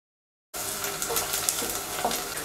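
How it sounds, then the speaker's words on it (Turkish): Onions sauté in oil and butter in a pan, giving a steady close sizzle that starts abruptly, with faint scraping from stirring throughout. "Soğanlar pembeleşene kadar kavuruyorum."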